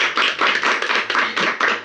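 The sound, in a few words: audience applauding Chef Maëva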